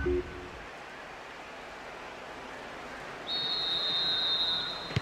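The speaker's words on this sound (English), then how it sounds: "The referee blows his whistle." Referee's whistle in the PES 6 football video game, a single long steady high tone starting partway through and holding to the end over low crowd ambience.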